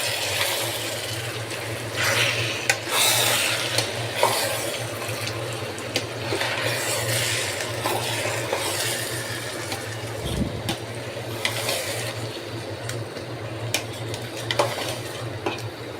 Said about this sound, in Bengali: মাংস দেওয়া হয়ে গেল, এখন আমি এটাকে চালের সাথে মিশিয়ে দিব।